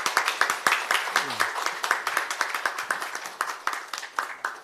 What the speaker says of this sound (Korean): 우리 정무수석님께도 큰 박수 한번 보내주시면 고맙겠습니다